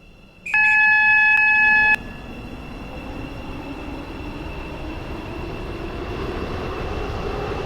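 A metro train in the Stepford County Railway game rumbles along steadily with wheel and track noise, and a short multi-tone chime sounds near the start before the running noise carries on and slowly grows louder.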